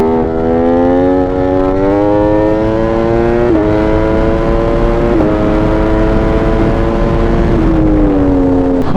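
Motorcycle with a loud aftermarket exhaust accelerating hard, a loud droning engine note that climbs in pitch, drops at each of several gear shifts, then climbs again.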